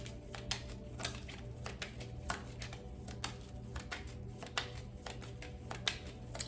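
Tarot cards being shuffled at close range, a steady run of crisp riffling flutters and soft snaps with no talking, quiet and even throughout.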